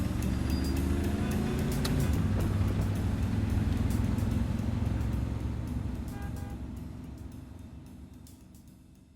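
A car engine drones loud and close with a steady rumbling hum, then gradually fades away over the last few seconds.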